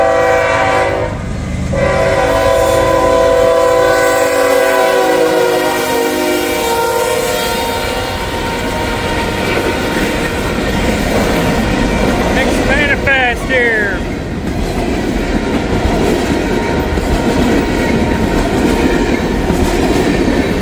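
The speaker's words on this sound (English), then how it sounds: "We got another Norfolk Southern coming." A Norfolk Southern freight train runs past on CSX tracks, its horn sounding in long held blasts near the start, then steady rumbling and wheel clatter fill the rest as the train rolls close by.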